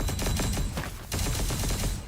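Rapid sustained gunfire from the video game Punishing Gray Raven, a loud dense fusillade of automatic shots with a brief gap before another burst, no voices.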